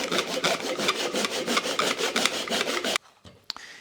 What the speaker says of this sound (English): Just going to hit these now with the Japanese saw, and just saw off these tenons